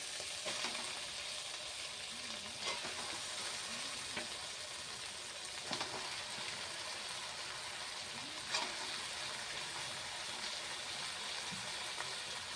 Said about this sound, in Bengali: এবার আমি মশলার মধ্যে দিয়ে দেবো চিকেনগুলো।